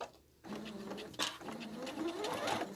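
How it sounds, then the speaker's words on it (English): A sewing machine stitches steadily up close, its motor whirring with a fast mechanical rattle that rises slightly in pitch toward the end, with no talking. "you go back to the sewing machine, and you're going to stitch that"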